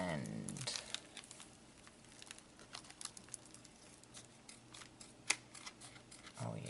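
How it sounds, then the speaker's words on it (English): Heavy duty scissors cut through plastic in a quiet, close series of sharp snips and crinkles, with small clicks and rustles between cuts. "The heavy duty ones cut plastic fairly well."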